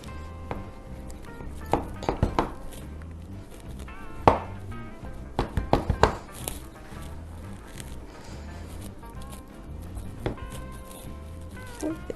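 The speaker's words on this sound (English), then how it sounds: "Cut frozen bread for things like this." Knife cutting through frozen sourdough bread, a series of sharp, crunchy chops and scrapes in irregular bursts, close up, with quiet kitchen handling sounds between cuts.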